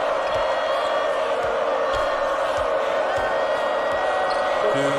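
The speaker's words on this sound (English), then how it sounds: "Listen to the crowd, Vern." Crowd noise in a college basketball video game rolls on as a dense, steady roar of cheering spectators, with faint ball bounces and a commentator-like voice sitting under the constant din.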